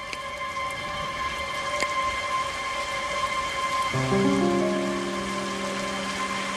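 Steady rain hisses as a close, continuous wash across the whole stretch, with a low tonal hum running beneath it and a deeper set of tones joining partway through.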